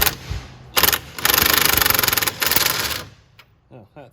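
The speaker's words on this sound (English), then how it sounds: "We're just going to use the impact on this one since there's a little bit less room on the top." An impact wrench drives a bolt on a Toyota Yaris lift kit install, firing in loud rattling bursts: a short burst, then a sustained hammering run of about a second and a half, and another burst before it stops.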